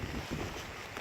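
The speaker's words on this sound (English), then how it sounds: "this is water flowing through the main road" Hurricane Harvey floodwater rushes across the main road of an equestrian property on a slope toward a creek, a steady, close broadband wash with wind buffeting the microphone.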